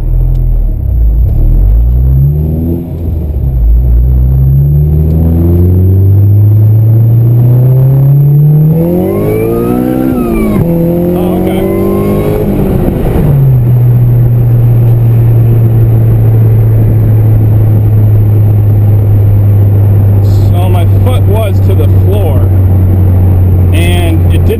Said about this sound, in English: I put my foot to the floor and left it to the floor and shifted to third